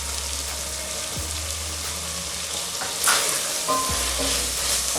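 A shrimp makwala broth sizzles and bubbles in a pot as it is stirred, a steady close crackle with occasional scraping clinks of the utensil.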